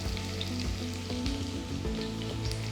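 Sliced onion and green chilies frying in oil for potato masala, a dense, even sizzle that holds steady throughout, with faint low clinks from the pan.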